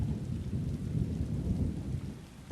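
Steady rain with low rumbling thunder fills an outdoor scene in the video game Elder Scrolls Online, a continuous wash of drops over deep rolling storm noise, ending in a brief sharp burst.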